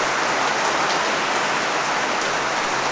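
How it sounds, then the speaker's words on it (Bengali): Steady rain falls outdoors, a dense even hiss of drops on surfaces that holds for the whole stretch without a break and with no voices. "আমাদের বৃষ্টি পড়ছিল আমরা বাইরে করছিলাম"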